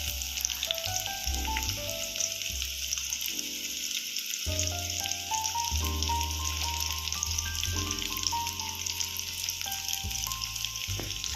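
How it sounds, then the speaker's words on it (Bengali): Chopped onions frying in the oil left after frying fish for a Bengali fish curry, an even crackling sizzle running the whole time beneath a melodic backing track, close and moderately loud, no speech. "এবার এই তেলের মধ্যে কুচানো পেঁয়াজগুলো দিয়ে দেবো"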